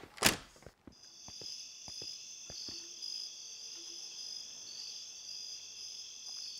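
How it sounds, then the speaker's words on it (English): Crickets chirping in the video game Signal Simulator, a steady high shimmering trill that runs throughout, with a loud thump at the start and soft footsteps scattered underneath. "Are the crickets loud enough for you?"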